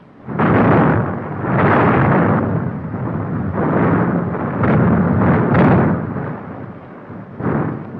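Anti-aircraft artillery guns fire repeatedly during a wartime air raid on Moscow in 1942, heavy booming blasts following one another in a loud rolling barrage with no voices.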